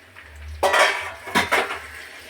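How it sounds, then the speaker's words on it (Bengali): Spice water poured into a pan of frying rohu fish heads, a metal clatter followed by a rushing splash and hiss, then a second clank and burst, close and fairly loud. "মশলা জলটা আমি দিয়ে দিচ্ছি এর মধ্যে"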